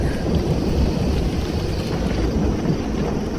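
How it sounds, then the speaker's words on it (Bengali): Animated thunderstorm with rain at night, a dense steady roar of rain and low rumbling thunder filling the scene, with no voices. "আমরা এই ঝড় বৃষ্টিতে আটকা পড়েছি"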